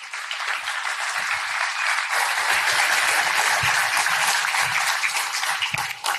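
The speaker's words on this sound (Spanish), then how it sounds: "Por favor, le invitamos al podio y la recibimos también con un aplauso." A crowd at a Chilean candidates' debate on transport and mobility applauds steadily to welcome a candidate to the podium, a dense, even wash of clapping that holds for the whole stretch with no voices over it.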